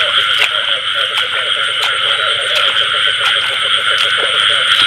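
Frogs croak densely in a rice field at night after the first rain of the season, a loud continuous chorus of rapid, pulsing calls with shrill insect-like trills layered over it, and no talk.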